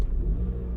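A keyless push-button car engine catching and settling into a quiet low idle rumble, brief and steady.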